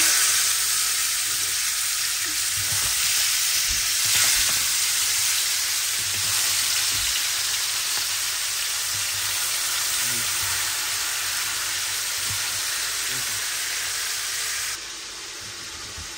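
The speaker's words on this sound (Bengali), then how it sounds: "এখন এখানে মুড়ি ঘন্টার জন্য মাছের মাথা ভেজে নিতে হবে" Fish heads frying in a pan of hot oil for muri ghonto, a loud, steady sizzle and hiss filling the whole stretch close up, easing slightly near the end.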